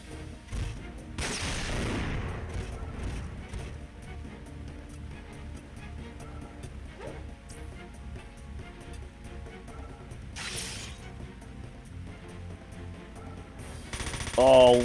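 Artillery barrage and gunfire during a Front Mission 4 assault on the Zaftran base in Venezuela: a continuous rumble of blasts and shots, loudest early on, with a late burst, while a voice talks over it.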